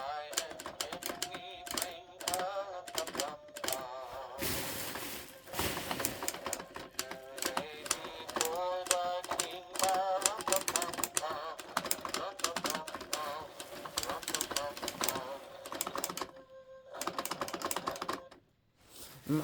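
A 1998 Gemmy animatronic drumming nutcracker clacks rapidly and continuously in close, sharp, irregular bursts, with brief pauses and one near-silent gap near the end.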